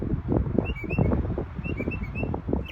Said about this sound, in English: Every day I've been hearing these birds louder and louder.